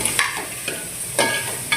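Ingredients for a Bangda mackerel fish curry fry in a pan, a steady close sizzle broken by a few brief stirring scrapes.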